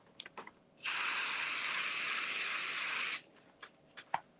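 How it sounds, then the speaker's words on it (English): A steady aerosol spray of basting spray hisses for about two and a half seconds, close and fairly loud, with faint handling noises before and after, during embroidery work. "you're going to spray basting spray"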